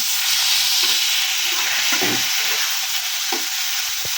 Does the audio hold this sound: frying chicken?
yes